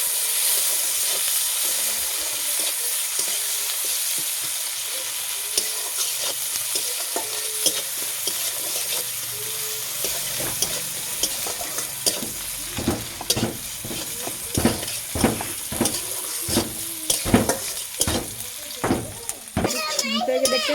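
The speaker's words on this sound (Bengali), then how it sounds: "পেঁয়াজগুলো লাল লাল করে ভেজে নিয়েছি" Chopped onions fry in oil with bay leaves and a green chili, a steady sizzle at first that turns busier with frequent scraping stirs and clatter in the second half, while voices murmur in the background.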